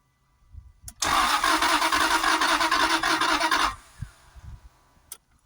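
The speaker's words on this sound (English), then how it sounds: "Engine turns over." A Jaguar XKR 4.0 supercharged engine cranks with a loud, rhythmic whirr for a couple of seconds, then cuts off, leaving faint clicks and rumbles, heard close with no talking.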